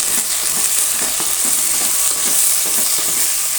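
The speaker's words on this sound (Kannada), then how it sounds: "ಈಗೆಲ್ಲ ಚೆನ್ನಾಗಿ ಮಿಕ್ಸ್ ಮಾಡಿ" Spiced masala for bread pulao sizzles and fries steadily in a steel pan, stirred with a wooden spoon that gives soft scraping strokes under the constant loud hiss.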